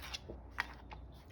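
Paper being cut with scissors in a few short, crisp snips, close and fairly quiet, with no talking.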